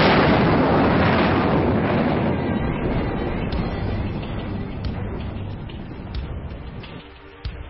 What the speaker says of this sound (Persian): ایران توانسته با شلیک موشک‌های دوربرد به دهانه اقیانوس هند توان دیگری را به نمایش بگذارد